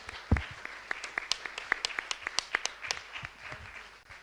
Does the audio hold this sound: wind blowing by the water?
no